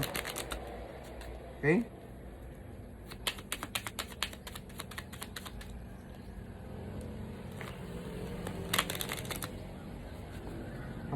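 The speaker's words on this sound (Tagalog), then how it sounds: "So ibabalasa lang natin ng paganyan." Playing cards shuffled by hand during a card-and-dice magic trick, heard as bursts of quick crisp riffling clicks, the loudest near the middle and end, with someone talking briefly.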